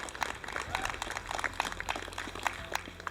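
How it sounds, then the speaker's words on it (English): Dense round of applause from a gathered audience at a Chilcotin War Chief's memorial, many hands clapping quickly and steadily at moderate volume with a low background rumble throughout. "So can we give a quick round of applause for them?"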